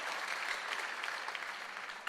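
A church congregation at an online Ascension service claps steadily throughout, a dense, moderately distant patter of many hands with no voices over it.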